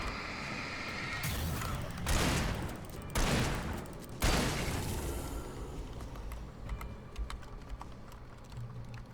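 Shotgun fire in a video game sounds as several heavy blasts in quick succession, each a loud broad burst that decays, followed by quieter ambient game noise and faint clicking.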